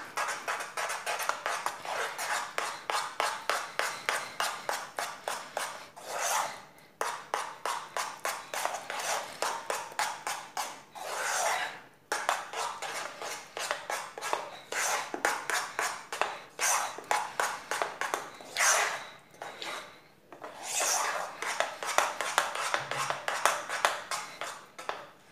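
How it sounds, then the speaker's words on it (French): A spoon scraping and knocking steadily against a bowl while caramel biscuit dough for sablés is mixed, a fast, continuous rhythmic clatter with a few brief pauses. "Je vais ajouter juste une cuillère à soupe d'eau chaude et continuer à mélanger."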